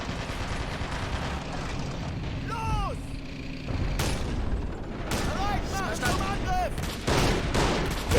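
Soldiers fire anti-tank rifles at point-blank range amid Stalingrad street combat in Men of War, with heavy booming shots and gunfire over constant battle rumble, broken up by short bursts of voice chatter.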